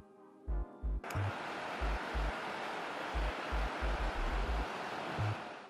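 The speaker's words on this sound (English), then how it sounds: "Monorail, a transportation system consisting of a single rail, upon which the train runs and is supported by columns." A monorail train runs along its single elevated rail carried on columns, a steady broadband roar swelling in after a short, quieter start, with irregular low thumps knocking underneath throughout.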